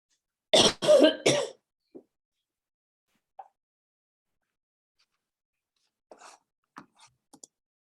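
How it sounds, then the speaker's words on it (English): A person coughs three times in quick succession, loud and close, followed by long quiet stretched with a few faint clicks and small noises. "I hear you coughing."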